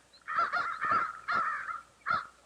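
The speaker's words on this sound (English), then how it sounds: "I could tell that from their cawing." Several crows caw over a farm field, harsh calls in short bursts of two or three with gaps between, moderately close and clear, no talk.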